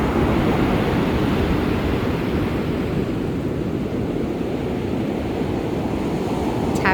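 Ocean waves along the Australian coast churn and wash in a continuous, dense roar that holds steady and loud the whole time, with no voices over it.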